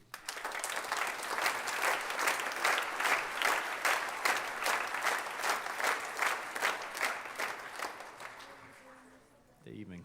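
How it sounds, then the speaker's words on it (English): An audience at a middle school all-state band concert claps in unison, with a steady rhythmic beat of loud synchronized claps that fades near the end as a voice comes in. "They even clap and sync up here."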